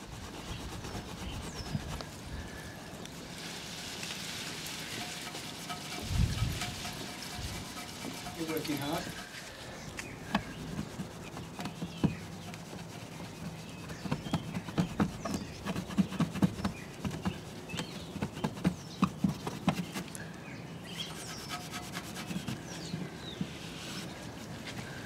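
Exhaust tips on a Nissan GTR polished by hand, producing steady, close rubbing and scuffing strokes with occasional soft taps over faint background noise.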